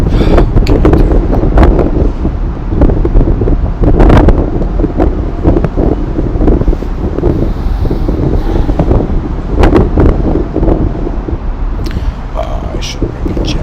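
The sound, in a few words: wind blowing outdoors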